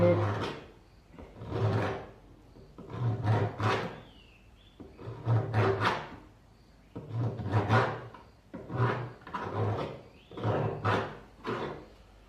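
A self-made tungsten-tipped scriber dragged across metal, making repeated rasping scrapes in uneven strokes, each lasting about a second, close and moderately loud with brief pauses between.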